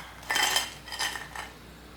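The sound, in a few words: fried baby corn moved onto a plate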